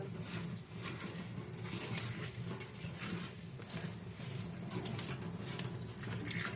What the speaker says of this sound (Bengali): বেছে নেওয়া শাকটা ভালো করে ধুয়ে নেব।